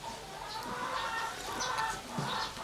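Domestic fowl on a small farm with goats nearby, clucking and calling in a steady busy chorus at moderate distance, with several brief squawks rising over the noise.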